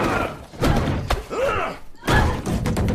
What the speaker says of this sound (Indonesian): Wes dihajar.